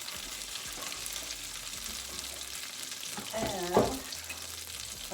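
Cod tongues sizzle steadily in a frying pan, a continuous close crackle that swells briefly as more pieces drop in, with a voice saying a word at the start.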